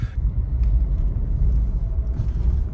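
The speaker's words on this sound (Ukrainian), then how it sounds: "Їдемо до Романа Сергійовича, він перебиває палку там на 15 гектарах" A car heading to a 15-hectare farm field rumbles with a steady, loud low drone heard from inside the cabin, with no talking.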